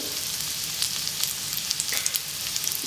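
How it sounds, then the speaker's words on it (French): Carrots browning in brown butter in a pan give a steady, close sizzle with scattered pops and crackles throughout. "On va faire revenir les carottes dans ce beurre pour les colorer"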